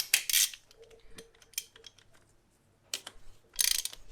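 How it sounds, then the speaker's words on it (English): A ratchet with a 24mm socket loosens the DSG transmission filter on an Audi S3, giving several short bursts of rapid clicking separated by pauses and quieter handling noises, close and fairly faint, with no talking. "to remove the filter, it's a 24mm socket, and just going to go and do that now"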